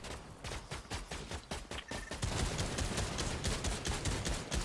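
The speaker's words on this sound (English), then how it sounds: "Keep shooting at him." Gunfire in the Fortnite video game crackles in rapid, dense bursts, fairly faint and continuous, thickening midway with no voices over it.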